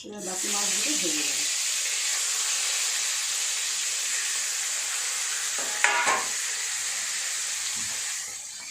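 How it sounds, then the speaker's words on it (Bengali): Fish fries in a hot pan with a steady sizzle and crackle, broken by brief scraping and clinking from turning the pieces, close and fairly quiet. "এবার বাকি মাছগুলো ভেজে নেব।"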